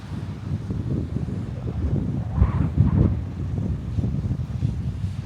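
Steady wind buffeting the microphone, a low rumbling roar with gusts that swell and fade, heard outdoors at a New Zealand camping spot in summer, with no other clear sounds.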